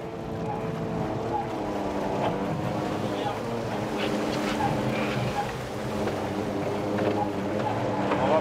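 Fishing boat working at sea off Capbreton while its net is hauled in, with a steady engine drone mixed with wind buffeting and wave wash throughout, and voices talking faintly in the background.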